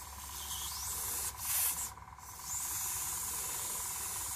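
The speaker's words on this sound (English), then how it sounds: "So you can see the difference if I just go over it with the airbrush." Airbrush spraying over gloss black model tank tracks, a steady close hiss that surges briefly in the middle, no voices.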